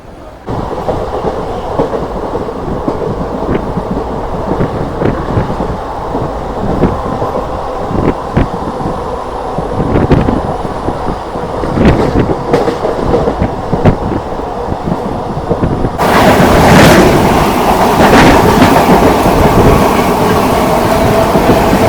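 Netravati Express curving from the loop onto the main line at Chowara railway station in the rain, a continuous heavy rumble and wheel clatter that grows louder and denser toward the end.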